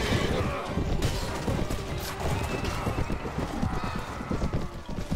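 A horse gallops in the Mount and Blade medieval battle game, with fast, continuous hoofbeats in a loud, dense battle mix that also holds crashes and clashing.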